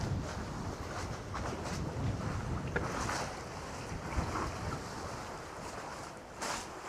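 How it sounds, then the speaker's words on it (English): A large tanker ship passes on a river, heard as a steady low rumble and wash of water with wind buffeting the microphone throughout, no voices. "Some bloody big tankers coming up that river."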